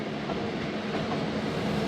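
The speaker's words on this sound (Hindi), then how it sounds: "तो अच्छा, लूप लाइन पर इंटर होगी ट्रेन।" The Thal Express passenger train running along the rails on a loop line, heard as a steady, rumbling roll with faint rhythmic clatter, close and constant throughout.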